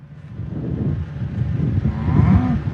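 Cattle low on a working beef operation in Kimball, South Dakota, a long moo rising near the end over steady rumbling farm background noise, with no talk.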